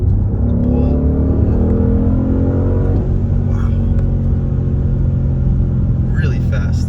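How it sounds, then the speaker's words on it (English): An Audi SQ8 performance SUV drives with a steady, loud engine and exhaust rumble; the pitch shifts around a gear change midway and the rumble continues low and constant, with soft burbles from the exhaust. "Ooh, little burbles when you press the shifters too."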